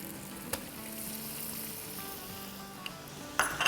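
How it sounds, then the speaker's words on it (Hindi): Chicken nihari masala with yogurt frying in hot oil, giving a steady close sizzle with a few sharp clinks and stirring scrapes near the end. "और दही के साथ अच्छे से भून लेंगे"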